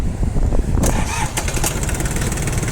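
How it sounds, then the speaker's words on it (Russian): A small Japanese 4WD diesel mini tractor engine cranks briefly, then catches and settles into a loud, steady chugging idle close by. "Давайте запустим трактор."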